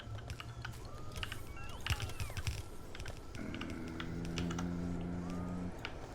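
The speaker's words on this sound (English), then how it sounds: "I know I said that my keyboard sounds would shut up in the next episode" Computer keyboard typing, a quick irregular run of clicky keystrokes close to the mic, mixed with faint electronic game tones from a Factorio session.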